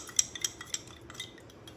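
A utensil stirs sand in a glass of water, giving light clinking taps against the glass, a few sharp clicks early on, then softer scraping and swirling, close and quiet.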